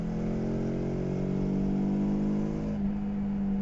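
Kawasaki Versys X 300 motorcycle engine held steady in 5th gear at about 5,000 RPM, a loud continuous drone with a constant pitch heard up close while riding, with no talking.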